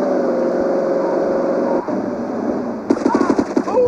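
Rapid automatic gunfire rattles in Grand Theft Auto III, a steady loud stream of shots over a droning game engine hum, shifting to sharper, more scattered bursts near the end.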